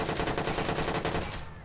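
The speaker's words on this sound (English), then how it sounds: "Whoa, someone's just been shot." Rapid automatic gunfire in the game Watch Dogs, a fast even burst of shots lasting over a second, then cutting off and fading away.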